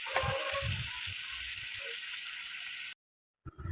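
Meat fries in a pan in a loud continuous sizzle with a few low clunks, cutting off abruptly near the end before resuming briefly.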